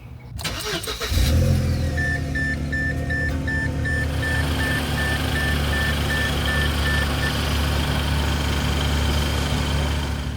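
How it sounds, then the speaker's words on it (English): A car engine cranks and catches after an oil change, then settles into a steady, loud, close idle that runs evenly to the end, with a faint intermittent beeping early on. "start it up, let it run for a little bit, let the oil cycle through the engine"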